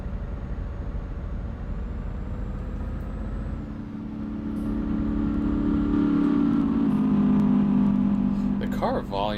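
A 730-horsepower truck in Euro Truck Simulator 2 accelerating at full throttle, its engine drone rising and growing louder after a few seconds, with a brief hiss near the end.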